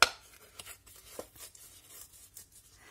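Paper is torn by hand during a craft project: a sharp rip at the start, then faint, intermittent rustles and small tears in a quiet room.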